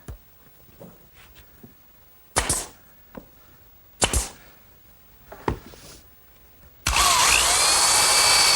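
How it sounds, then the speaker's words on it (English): Brad nailer driving brads into the corners of an oak band on a rolling shop cabinet: several sharp pneumatic snaps spaced a second or so apart, followed by a loud, steady whine of a power tool to the end. "What I'm going to do first is nail the corners together with some brads"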